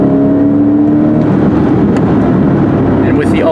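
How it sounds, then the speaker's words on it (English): A Porsche 911 Carrera 4S (997) flat-six engine revs loudly and continuously, a rising mechanical wail with the rush of driving close by. "you just hear that beautiful Porsche 911 wail from that 6 behind you"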